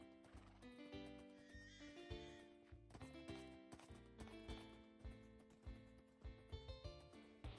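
Horse hooves clip-clopping in the Wynncraft video game, a steady rhythmic trot of hoofbeats under busy game music, with occasional whinny-like tones, continuing throughout.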